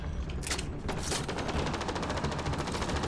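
Shotgun fire in the video game Mass Effect Andromeda: two loud, sharp blasts, then a fast, evenly spaced run of repeated shots over a low rumbling background.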